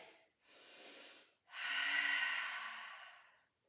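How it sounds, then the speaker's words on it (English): Breathy exhalations during a Pilates mat marching exercise, two long airy breaths close to the microphone, the second longer and stronger, with no talking. "Keep breathing."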